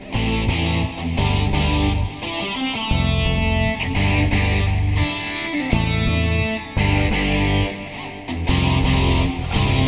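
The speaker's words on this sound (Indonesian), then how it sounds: "Ini suara gitar." A guitar track played back through a software mixer with the bass muted, sounding as dense, continuous distorted strumming at steady loudness for the whole stretch, alone with no talking.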